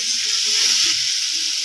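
Ground spice masala paste for prawn malai curry fries in a pan, giving off a dense, steady sizzle that stays even and close throughout, with no voices.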